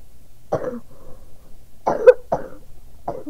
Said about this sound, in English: I have a really, really big cough